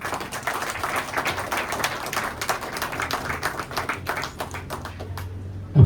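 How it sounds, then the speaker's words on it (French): An audience applauds a director after her speech at a public health event, steady dense clapping from many hands filling the room at moderate level, continuing without talk. "Donc je vous invite à applaudir la directrice encore une fois."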